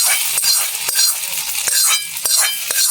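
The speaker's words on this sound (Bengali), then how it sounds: "ইডলি বানানো কিভাবে এই যে আমরা এবার মিশিয়ে দিচ্ছি" Idli batter being stirred and mixed with curry leaves and mustard seed tempering, a wet swishing with repeated sharp spoon knocks against the bowl every half second or so, close and fairly loud.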